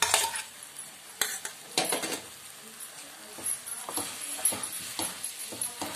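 Potato and curd curry being stirred in a pan, with a spoon scraping and clinking against the metal in irregular close taps and rattles, fairly quiet overall.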